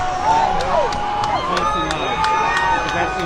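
A large protest crowd outside, voices chanting and cheering together in a continuous swelling roar, with sharp bursts cutting through at regular beats, moderately close and loud throughout.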